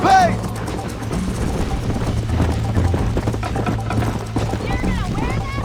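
Horse hooves clip-clop at a quick gallop in the Red Dead Redemption western game, with a whinny and whooshing movement, under steady background music and game noise.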